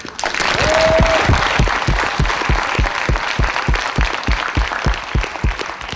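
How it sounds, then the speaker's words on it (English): A crowd at a football county final trophy presentation applauds the players, with steady, dense clapping that fades slightly toward the end and no talking over it. "a big round of applause for the players behind me here"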